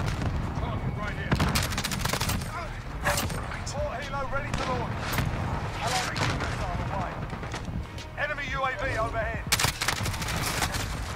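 Rapid gunfire in the shooter game Modern Warfare, bursts of automatic shots and sharp cracks layered over game ambience, with a player talking over the action.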